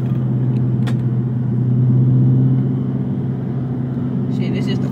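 A Dodge Scat Pack rolls through a slow first lap of a NASCAR track, its engine a steady, loud low rumble that holds evenly throughout.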